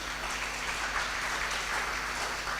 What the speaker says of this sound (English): Let's give applause first for all the speakers.